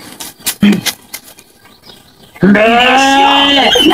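During an animal-guessing game, a person gives a loud, drawn-out voiced imitation of a cow's moo, following a brief stretch of quieter talking and shuffling.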